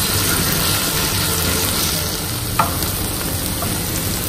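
Spice paste sautéing in hot oil for Kelantan-style peanut sauce gives a steady, dense sizzle that carries on unbroken for the whole stretch, with one brief sharp tick partway through.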